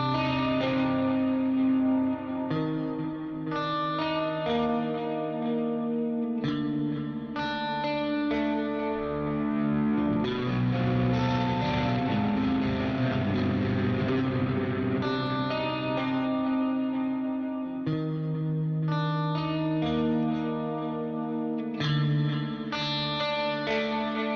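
Electric guitar runs through an Archetype amp-sim plug-in on its clean channel with overdrive, playing ringing chords and a busier lightly driven passage with chorus, echo and reverb, sustained and moderately loud throughout.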